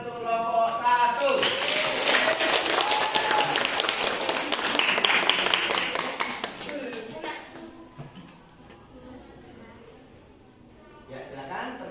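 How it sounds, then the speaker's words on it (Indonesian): A classroom group claps loudly for group 1 for about seven seconds, a dense burst of applause that fades, followed by quiet room sound and a brief voice. "Beri tepuk tangan untuk kelompok 1."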